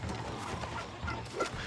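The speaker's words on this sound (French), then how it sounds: "Dindon, reviens, reviens." A turkey in the video game New World makes a few short, throaty clucking gobbles in a steady outdoor ambience.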